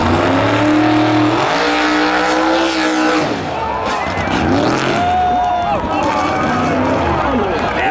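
A 1960 Chevy Bel Air drag car roars loudly on launch into a wheelstand, its engine tone rising and shifting through the run before fading off toward the end, with a voice speaking over the roar.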